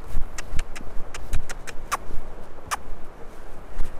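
Hooves of a young horse under rein training strike the ground in an uneven walking rhythm, with sharp, fairly close clops over faint background noise.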